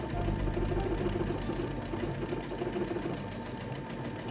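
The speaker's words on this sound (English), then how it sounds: "Whatever the machine is stitching out, it will be at the top of the" A computerized Brother or Baby Lock sewing machine stitches out an embroidery design with a steady, rapid mechanical whirring and a fast, even needle rhythm. The sound is close and continuous, with no voices.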